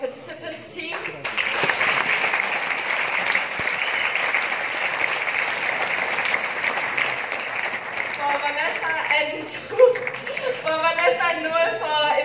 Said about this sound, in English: So please give a round of applause for Joel and Caro for the participants team.